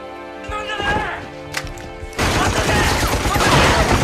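Takeda Kanryu fires a machine gun at Kenshin, Sanosuke and Saito Hajime in a film fight scene. Tonal, music-like sound comes first, then a loud, dense, continuous burst of rapid fire takes over midway and runs to the end.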